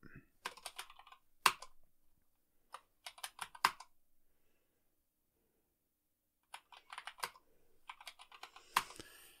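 Bursts of typing on a computer keyboard while entering a terminal command on a Debian-based Linux desktop, quick clusters of crisp key clicks separated by silent pauses.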